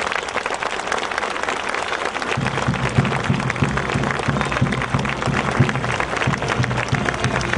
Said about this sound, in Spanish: químico farmacéutico Yamil Vázquez Zúñiga, a quien le damos un fuerte y cariñoso aplauso